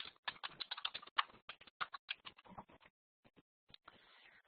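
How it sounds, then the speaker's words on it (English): Rapid clattering keystrokes on a computer keyboard, typed in quick close bursts, then a few slower isolated taps and a faint scuffle near the end, no voices. "I'm going to type here"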